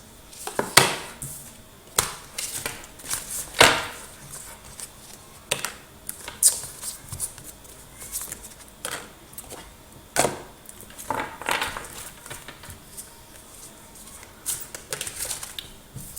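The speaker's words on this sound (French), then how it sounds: "je vais vous faire l'oracle de la spiritualité. Prendre quelques cartes" Cards from a spirituality oracle deck being shuffled and drawn by hand, close up: soft papery slaps, flicks and sliding rustles in an irregular rhythm with short pauses, and no talking.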